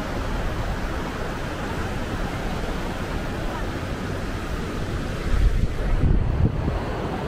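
Sea waves at Pham Van Dong beach in Da Nang wash in as a steady, dense roar mixed with wind buffeting the microphone, with a slightly louder surge near the end.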